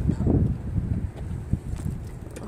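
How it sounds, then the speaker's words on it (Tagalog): Strong wind gusts buffet the microphone with a low, uneven rumble that swells and fades, with no one speaking. "Napakalakas ng hangin."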